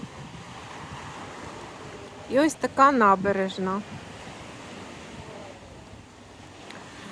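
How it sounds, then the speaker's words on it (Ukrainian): Sea waves wash over a stony beach in Odesa, a steady broadband rush with wind noise on the microphone, while a person speaks briefly over it. "Хвилі сьогодні."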